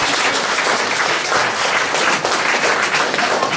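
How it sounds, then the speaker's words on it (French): Church congregation applauding together, a dense continuous wash of many hands clapping, loud and close, sustained throughout without a break. "Nous allons applaudir le Seigneur."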